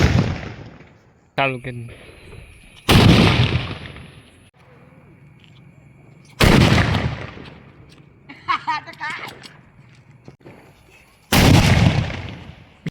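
Firecrackers burst outdoors during Dev Diwali, with four loud, sharp bangs spaced a few seconds apart, each trailing off; people talk between the blasts.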